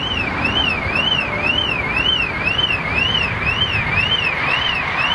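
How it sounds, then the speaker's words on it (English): Car alarm wailing steadily at an airport during a Boeing 747 final flight event, a loud repeating up-and-down electronic tone over heavy continuous background rumble, with no talking. "There's the alarm. Can you hear it?"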